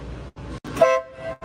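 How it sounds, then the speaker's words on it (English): A Wattman model train's air horn gives a short, sharp toot partway through a brief stretch of clicking and handling noises from the controls, sounding near and fairly loud. "That's the air horn."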